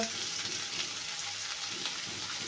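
Chopped onion frying in hot oil with cumin for a halwai-style mixed vegetable curry, giving a steady close sizzle with faint crackles and occasional stirring, no talk.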